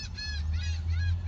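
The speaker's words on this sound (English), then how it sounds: "Freaking seagulls, man." Seagulls near a construction site a few minutes from the bay, giving a run of several loud, harsh honking calls over a low rumble of machinery.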